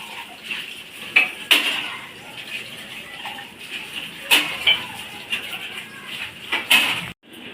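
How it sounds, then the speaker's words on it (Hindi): Dishes and utensils being washed in a home kitchen sink, with scattered clinks and clatters of metal pots and cutlery against a steady background of running water, several sharper knocks spaced irregularly throughout. "बर्तन मैंने मार दिए हैं, इनको धो लेती हूँ।"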